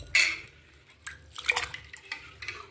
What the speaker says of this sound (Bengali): চলো এবার চালটা আমি ধুয়ে নিয়ে ভাতটা বসাই।